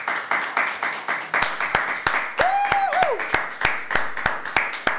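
A small group claps on a live stream in a steady rhythm of sharp, distinct claps about three per second, close and fairly loud, with a brief whistle-like tone sounding midway.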